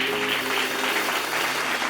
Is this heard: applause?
yes